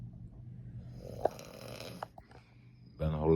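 A person snores in a bedroom, with a few short snorts and breaths and a louder, rasping snore near the end, fairly close and faint.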